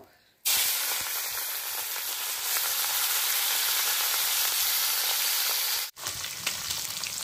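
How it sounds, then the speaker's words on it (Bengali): Prawns coated with salt and turmeric fry in hot oil with a loud, continuous sizzle that begins abruptly, dips for a moment near the end, then resumes. "দিয়ে দেবো অল্প একটু হলুদ, দিয়ে চিংড়ি মাছগুলো ভেজে নেব"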